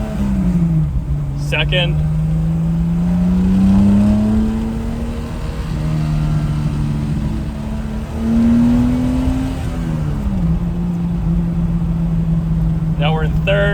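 A TVR 2500M sports car revs up through first gear, its engine note climbing, dropping at the shift, then rising again in second, loud and close with a voice talking over the engine.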